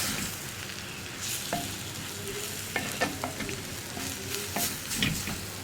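Tomatoes sizzle in a pan over high flame while being stirred into a chicken roast, with a steady frying hiss broken by scraping and clattering stirs from a spoon, close up and without speech.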